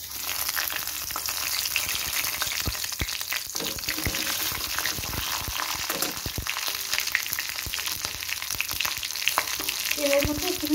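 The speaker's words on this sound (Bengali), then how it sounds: "কাঁচা লঙ্কা শুকনো লঙ্কা একটু ফাটিয়ে দিলাম" Panch phoron, bay leaf, one green chili and one dry chili frying in hot oil, a dense crackling sizzle with frequent pops and spits, loud and close, with a few stirring clinks near the end.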